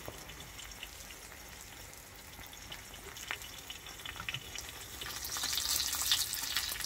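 A Thai omelette, khai jiao made from three eggs seasoned only with fish sauce, fries in hot oil in a pan with a steady bubbling crackle that swells louder and brighter toward the end.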